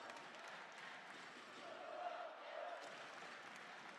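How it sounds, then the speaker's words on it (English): Norwegian fans in a handball arena during the women's EHF EURO 2012 final, a distant, steady crowd roar with cheering swelling slightly midway, faint and continuous. "Norwegian fans cheering their team on"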